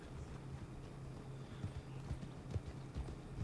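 Horse hooves clip-clop steadily at a walking pace in Red Dead Redemption, a low rhythmic patter of soft, fairly close thuds over a faint continuous background hum, with no talking.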